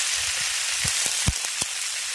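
Green peas tipped into a hot pan of oil for a winter mixed-vegetable curry, giving a steady close sizzle broken by a handful of sharp pops and clatters as they land. No talk.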